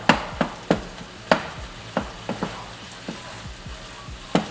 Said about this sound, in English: Now it's starting to fry.